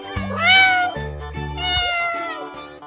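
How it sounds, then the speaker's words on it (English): Cat meows in an animal painting game, two clear, loud mewing calls close up, each rising then falling, set against simple game music with no talking. "Cat."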